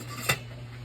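A lid is set onto a pot of simmering Filipino adobo, making one short, soft metallic clink over a low, steady background hum.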